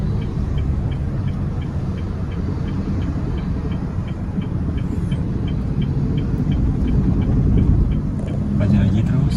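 Cabin of a Honda Brio on a driving lesson, creeping slowly in traffic with a steady low road and engine rumble, while people talk throughout and faint rhythmic clicks tick in the background.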